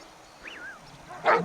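A rising-falling whistle command to a sheepdog herding sheep, followed by a single short, sharp dog bark close by.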